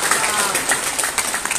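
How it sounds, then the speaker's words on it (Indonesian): An audience applauding at a gathering, a brief dense patter of clapping that runs the whole moment, with a voice speaking over it. "Tepuk tangan untuk Makassar."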